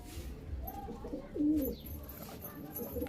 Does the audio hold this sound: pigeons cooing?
yes